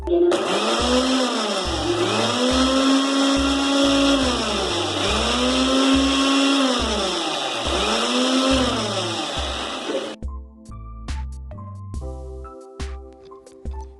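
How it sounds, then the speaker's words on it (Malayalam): A kitchen mixer grinder running on a low setting blends oil for homemade mayonnaise with a loud, steady whir that pulses rhythmically, then cuts off, followed by a few sharp clicks and clatter. "മിക്സിയുടെ ബാക്ക് സ്പീഡ് വെച്ചിട്ടാണ് ഇത് ഗ്രൈൻഡ് ചെയ്തെടുക്കേണ്ടത്."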